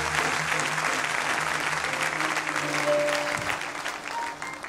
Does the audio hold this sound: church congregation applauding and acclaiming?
yes